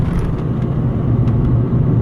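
A 1995 Mercedes S500 W140 saloon with big exhaust pipes drives along, a steady close low rumble of engine and road noise with no talking.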